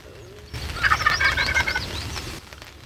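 A wild turkey gobbles during a hunt, one rattling, fairly close burst lasting about two seconds against a low rumble of wind or outdoor noise, with no voices.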